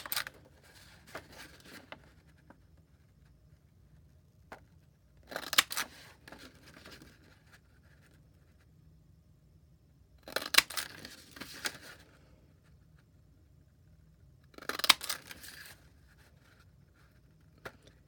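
A paper punch cuts vellum pieces in a quiet room, with four short crisp clusters of clicks and crunches spaced several seconds apart and faint handling rustles in between.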